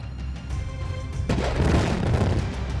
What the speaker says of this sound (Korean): 미군이 그 깃발을 뽑는 순간 빵! 터지게 되는 것이었어요.